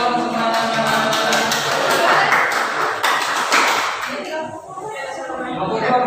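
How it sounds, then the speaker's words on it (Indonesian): A group of students claps together in a classroom, a dense, steady patter of many hands that carries on for several seconds with voices talking over it. "Ya, tepuk tangan dong semuanya."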